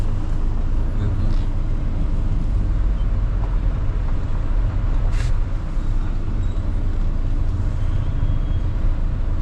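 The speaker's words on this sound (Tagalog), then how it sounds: "Traffic." Road traffic rumbles continuously, a loud low drone of passing engines close by with brief faint squeaks and hisses on top.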